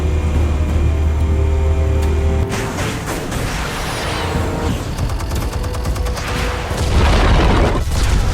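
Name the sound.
explosives detonating in Batman Telltale video game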